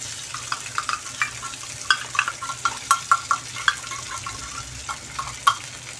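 Ground pork frying in a pan and being stirred, with a steady soft sizzle under repeated scraping clicks of a utensil against the pan, close and fairly quiet.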